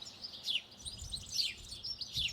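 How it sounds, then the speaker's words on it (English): Small birds sing in a windy coastal landscape in the Pays d'Oc, giving quick high chirps and short trills in bursts over a soft low wind rumble, fairly faint and without voices. "the birds are in full voice."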